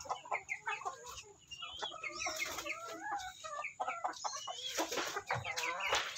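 Chickens clucking and calling inside an old coop, a busy chorus of overlapping clucks and squawks, fairly close, steady across the whole stretch with no talk.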